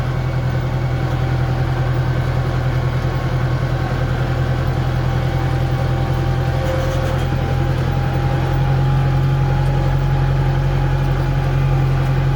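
A farm tractor's engine runs steadily and fairly loud on open farmland, a constant low drone that neither rises nor falls, with no voices over it.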